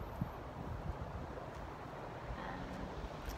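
Steady wind buffets the microphone outdoors in Santa Rosa on a blustery day, a continuous low rumble with occasional gusty thumps and no voices.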